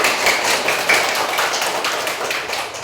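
Classroom clapping from a group of students in Indonesia, a steady patter of many hands at moderate loudness lasting the whole stretch, fairly close with no talk over it.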